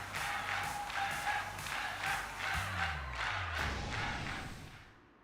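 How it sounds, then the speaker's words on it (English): Game crowd in Pokémon Scarlet cheering and shouting in loud repeated surges over a low rumble, with thumps and a falling tone near the middle, fading out at the end. "This crowd's so loud it can wake the dead"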